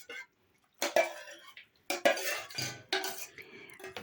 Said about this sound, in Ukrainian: Цю всю масу перемішую до однорідності.